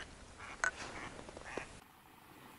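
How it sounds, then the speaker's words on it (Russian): A few duck quacks ring out over an open outdoor duck-hunting spot with decoys, moderately close and spaced irregularly against steady ambient noise, with no talking. "Вон, смотрите, уточка села."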